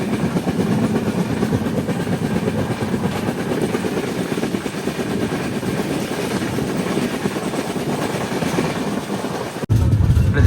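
Inside the Visakhapatnam Express (12862) running at speed past Ghatkesar station at night: a loud, continuous rail rumble with rattling carriage noise throughout, broken by a brief dropout near the end.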